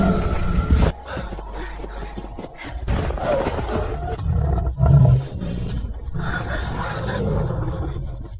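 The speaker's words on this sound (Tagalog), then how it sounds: "Mga malalaking lobo iyan." Large wolves, captured for use as mounts, roar loudly and close in several deep, drawn-out bursts that swell and fade over a few seconds, with no talking.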